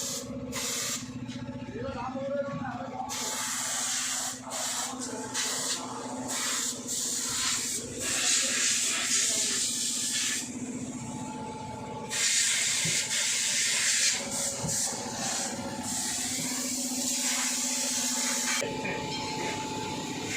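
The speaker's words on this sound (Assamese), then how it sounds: "আমাৰ কোৱাইদৰে ডিজেল ৱাছ কৰি আছে" A pressure washer sprays at full power during a diesel wash of a car, a steady hissing jet that cuts in and out in long stretches, with faint voices in the background.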